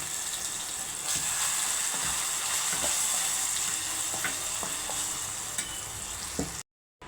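Pounded raw mango chutney, with turmeric added, fries in a hot pan with a loud, steady crackling sizzle and scattered small pops and stirring clicks, then a brief dropout near the end.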